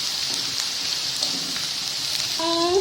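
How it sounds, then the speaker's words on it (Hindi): Food fried with only salt sizzles steadily in a pan, a continuous crackling hiss at moderate volume, and a brief tonal sound rises near the end. "देखिए ये फ्राई हो रहे हैं"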